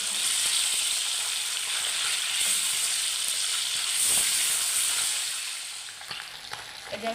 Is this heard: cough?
no